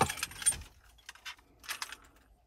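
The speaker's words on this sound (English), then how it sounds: "Two keys or two key fobs," Two key fobs and two locking wheel nut keys for a 2017 Nissan Navara 2.3 dCi Tekna jangle up close in short bright bursts, a loud rattle first and then softer clinks at intervals.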